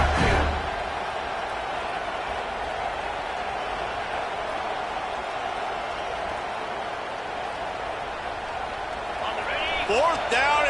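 A loud football stadium crowd roars on fourth down in a Clemson versus LSU game, a sustained dense wall of noise with a sharp burst at the start and whistles near the end.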